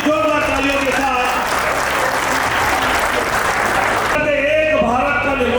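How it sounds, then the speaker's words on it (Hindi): Loud crowd applause at an outdoor political rally during a unity march, sustained clapping mixed with amplified speech from a loudspeaker that continues over and after it. "जोरदार तालियों के साथ"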